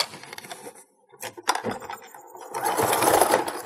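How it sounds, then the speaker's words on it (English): A sewing machine stitches a tack across the gusset corner of a fabric overnight bag. The motor whirs in short bursts, pauses, then runs in a denser, steady stretch near the end. "So I'm sewing the point to this where it's opened up"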